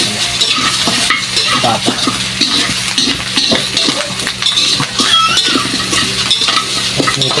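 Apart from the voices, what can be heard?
pork frying in its own fat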